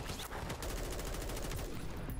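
Sustained, dense gunfire from Call of Duty: Modern Warfare 3, with rapid overlapping shots forming a loud, continuous barrage throughout.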